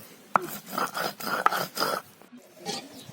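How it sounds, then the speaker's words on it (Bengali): Mustard seeds being ground on a grinding stone: a series of rhythmic, rasping back-and-forth rubbing strokes, fairly close and moderately loud, with a few sharp scrapes between them. "এজন্য সরিষা কিছু বেটে নিচ্ছে"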